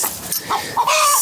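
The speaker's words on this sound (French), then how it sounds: "C'est le poulailler à papa." Hens in a backyard henhouse on a rainy day, giving a few close, short clucks and squawky calls in quick succession.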